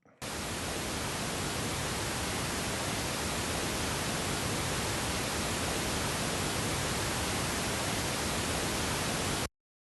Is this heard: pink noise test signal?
yes